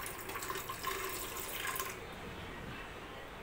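Water is poured into a pressure cooker with a wire rack set in the base, ready to steam two containers of dal and rice; a steady, close splashing stream that fills the first two seconds, then drops to a faint trickle.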